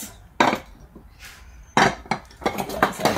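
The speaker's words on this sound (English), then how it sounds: "Just another glass decorative dish that can go in the garage sale." Glass decorative dishes are picked up and set down, producing several sharp clinks and knocks close by, scattered irregularly, with quiet gaps and no talking.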